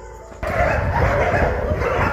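Dogs belonging to a prison corrections bureau sound off in a noisy, continuous jumble of barks and yips that starts abruptly and stays loud for about two seconds, with faint talk mixed in.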